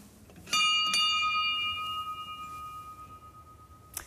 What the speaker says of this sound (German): Und ich werde jetzt die berühmte Glocke läuten